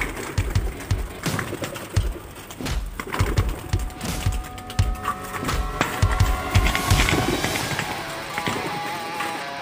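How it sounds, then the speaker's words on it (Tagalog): A flock of pigeons takes off from a loft, with flapping wings, cooing and rustling close by, layered and busy throughout. "Yan, dami mga kalapatid."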